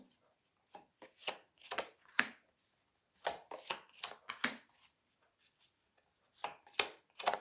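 Tarot cards shuffled in quick irregular bursts of papery riffling, with short pauses between each flurry, close and fairly quiet.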